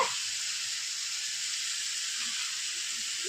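Crushed garlic sautés in a pan, hissing in a loud, even, continuous sizzle close up, with no voices over it.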